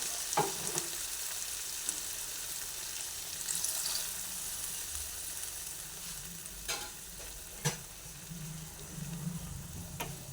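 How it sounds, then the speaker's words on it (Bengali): Papaya and capsicum curry simmering in a pan after water is added, a soft steady sizzle and bubble with a few faint clinks, heard alone. "এরপরে এইভাবে এটাকে ফুটতে দেবো"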